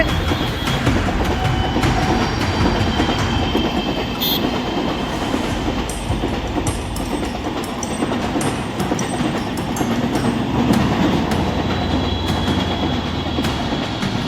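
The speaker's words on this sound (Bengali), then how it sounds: "এই যে ট্রেন চলছে নিচে" A train rumbles steadily along the tracks beneath a road bridge in Raniganj, West Bengal, with a continuous low roar and faint rattling clatter, sustained throughout without speech.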